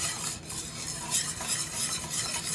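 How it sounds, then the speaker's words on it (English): Whisk stirring a vegan cheese sauce with lemon juice in a pan for mac and cheese, a steady close scraping swish with a soft sizzle underneath, continuous with no talking. "Kind of whisk that up just a little bit more."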